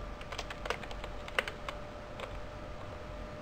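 Code is typed on a computer keyboard, giving a quiet, irregular run of close key clicks over a faint steady hum, with no talking.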